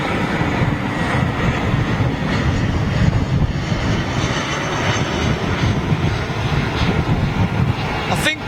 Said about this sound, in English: Old livery Lufthansa.